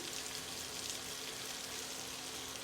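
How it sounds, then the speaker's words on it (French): Chopped Spanish onion sizzles in melted butter in a pan, a soft steady crackling hiss that continues without pause. "J'ai fait fondre mon beurre, j'ajoute mon oignon que j'ai émincé"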